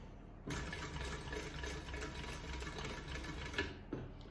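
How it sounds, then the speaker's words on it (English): A sewing machine stitching a single line on a bucket bag, a rapid steady mechanical whir that starts abruptly, runs about three seconds close and loud, then stops, with no talking. "So you want to sew down a little bit further here. Okay, so we're just going to do one line of stitching,"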